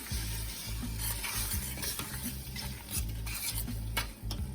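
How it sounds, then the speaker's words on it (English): A spoon stirs collard greens with smoked turkey wings in a pot, scraping and clinking in an irregular rhythm over a soft sizzle, close and quiet with no talking. "Stir that again."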